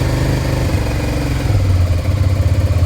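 A Suzuki SV650 motorcycle engine runs close and loud with the choke on, a low rumbling idle that turns into a throbbing, pulsing beat toward the end.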